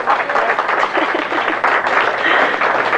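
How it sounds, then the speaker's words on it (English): A crowd at a televised bowling match applauds and cheers steadily, a dense wash of clapping and voices holding at full level throughout. "He brought his own crowd with him, and he wanted him to cheer him on some more."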